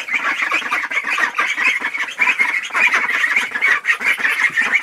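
A crowd of ducks quacks continuously and loudly nearby in a duck house, a dense, overlapping chorus of calls in an enclosed space.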